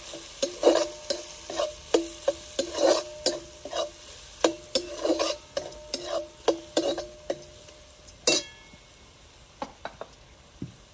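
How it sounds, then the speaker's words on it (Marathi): Raw papaya pieces sautéed with turmeric and red chilli powder in a pan: a steady soft sizzle under repeated scraping stirs of a spatula, close and moderately quiet, with no talking. "आता पपईच्या फोडी परतून घेतलेल्या आहेत आपण"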